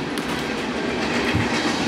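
A train passing near an abandoned school, a steady loud rumble with clickety-clack of wheels on rails throughout, no talk.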